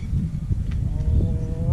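A cow on a farm lets out a loud, close, low moo that swells and holds, with rumbling outdoor background and no talk.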